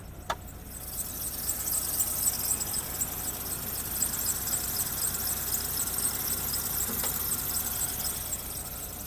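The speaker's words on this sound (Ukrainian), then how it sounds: "двигун працює рівно, його не, не тріпає" A cold 2010 Dacia Stepway 1.6 MPi petrol engine idles steadily and smoothly with an even, low hum and a thin high whine, close up, with a couple of brief clicks.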